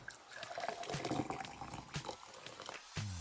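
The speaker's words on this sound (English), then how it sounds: "Now pour some little bit of hot water." Hot water is poured into a mug holding honey, turmeric and ginger for a morning drink, a short, soft liquid splash and trickle lasting about three seconds, fairly quiet and close.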